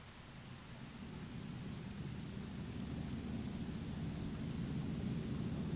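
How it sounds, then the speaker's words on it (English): Rain falling in the online game Star Wars Galaxies, a dense steady hiss that grows slightly louder, with a low rumbling undertone like distant thunder and no voices. "I like the rain as well, Chris."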